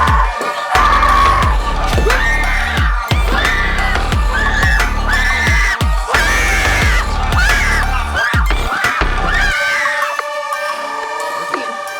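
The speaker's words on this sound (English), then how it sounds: "That was a great scream." Loud, repeated shrill screams from an excited crowd, in bursts over a heavy rhythmic pounding beat, fading toward a quieter ending.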